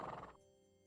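A rescued horse in the video game Barbie Horse Adventures lets out a short, bright whinny that cuts off quickly, leaving only faint game ambience and a light hoof clop.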